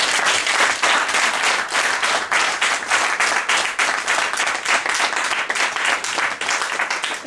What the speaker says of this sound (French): On applaudit ce bon riz.